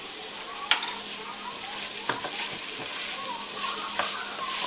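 A tablespoon of flour fries in oil for a vegetarian chickpea chili, making a faint, even sizzle broken by a few sharp clicks and scrapes of a stirring spoon in the pot.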